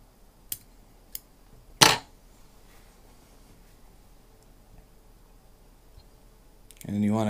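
Scissors trim fly-tying material on a trout dry fly: a few sharp, quiet snips in a near-silent room, followed by a louder rustling burst at the end.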